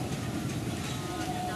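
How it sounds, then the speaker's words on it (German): An empty train pulls out of sugar mill grounds in Java, Indonesia, a steady, close rolling rumble with a dense wash of rail and wagon noise throughout. "Der leere Zug verlässt das Werksgelände."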